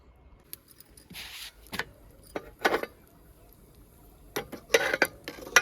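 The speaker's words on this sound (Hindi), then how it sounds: "तो पहले बर्तन धो लूँगी" Washing dishes in a home kitchen, with pots, pans and utensils clattering and clinking in scattered, close bursts separated by quieter gaps.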